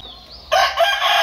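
An aseel rooster crows loudly and close at a poultry market in Multan, the bright strained call cutting in sharply after a quieter opening moment.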